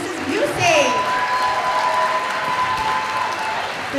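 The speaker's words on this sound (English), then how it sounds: "Could we have another round of applause for our 6th grade band and Mrs. Busey?" An audience gives another round of applause at a spring school concert for a sixth grade band and its director: steady, fairly loud clapping with whistles and cheers, and a voice talking over it.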